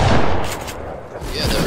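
Gunshots in the video game Fortnite burst out in a dense, loud cluster, fade briefly, then pick up again in quick succession, close and heavy with reverberation.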